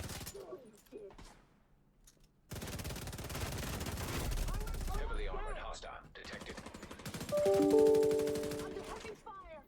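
Automatic gunfire in The Division 2, an F2000 rifle firing in sustained bursts, loud and dense, with a voice talking over parts of it.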